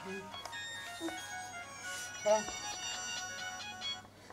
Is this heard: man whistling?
no